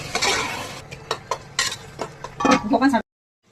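Marinated chicken being sautéed in a pan gives a soft sizzle under a run of close spoon scrapes and clinks against the pan, ending abruptly.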